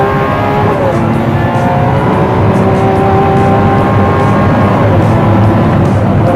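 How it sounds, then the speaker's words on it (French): A Lamborghini Aventador Centenario V12 engine and exhaust rev loudly and continuously, heard from inside the cabin as a dense, steady roar with rising harmonic tones throughout. "l'échappement et la sonorité est beaucoup plus présente dans l'habitacle de la Centenario"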